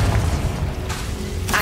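Confringo spell explosion in Hogwarts Legacy on Xbox Series X, a deep booming blast rumbling for about a second and a half, loud and close with brief bursts.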